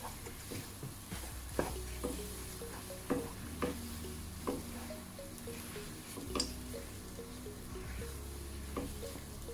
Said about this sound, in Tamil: இனி நல்லா கிளறி விடணும்.